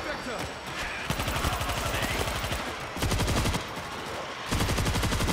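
Rapid automatic gunfire in World War Z: Aftermath rattles in fast, loud machine-gun bursts separated by short gaps, with a player's voice talking over the shooting.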